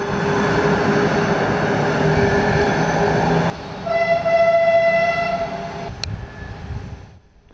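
A Sarajevo–Ploče passenger train rolls into the terminus at Ploče, a loud close rumble of wheels on rails with a steady squealing tone as it slows, fading toward quiet at the end.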